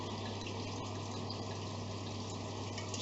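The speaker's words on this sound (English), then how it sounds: "then we add the wine" Red wine poured from a bottle into a pot of beef bourguignon, a steady continuous liquid gush at close range under a low constant hum, with no talking.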